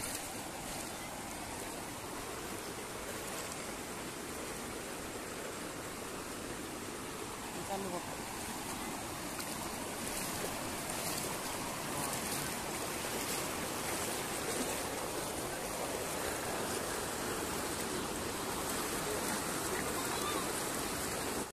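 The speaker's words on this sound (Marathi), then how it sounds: "मानपूरच्या तळ्यात पाणी चाललंय" Floodwater rushes from a burst storage lake after heavy rain, pouring into a neighbouring village lake in Jalna; a steady, loud broadband roar of torrential flow runs unbroken throughout, close and continuous.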